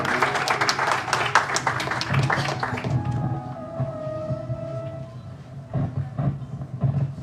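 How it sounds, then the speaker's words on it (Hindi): Audience applause welcoming a guest onto the stage at an inter-school storytelling competition in a hall, steady clapping over the first three seconds that thins out, with scattered claps continuing. "तालियों के साथ उनका स्वागत करें।"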